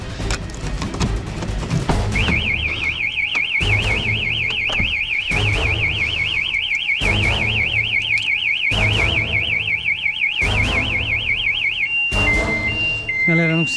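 A car alarm blares loud and close, a rapid warbling siren cycling continuously for about ten seconds before switching to a different stepped tone pattern, with thumping background noise and no speech.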